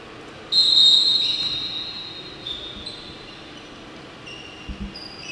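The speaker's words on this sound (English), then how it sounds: "The whistle is to reset the shot clock." At a basketball game between St. Vincent & the Grenadines and Cuba, a referee blows one sharp, loud whistle blast that tails off over a hum of arena crowd noise, followed by a couple of faint thuds.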